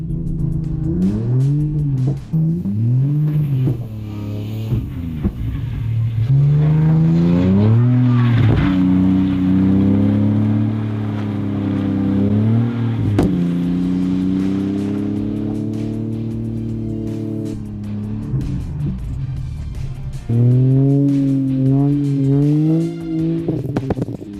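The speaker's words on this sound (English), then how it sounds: "we're drifting up the hill" Car with a full-size spare and very wide tires drifting up a snowy hill, its engine revving loud and close with rising and falling pitch through the whole stretch.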